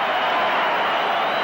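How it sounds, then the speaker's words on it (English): Stadium crowd at a 1983 Kiwis versus Kangaroos rugby league test at Lang Park, a broad, steady roar of cheering that holds loud and even throughout with no distinct individual voices. "And brought down by Mortimer, and the crowd love that"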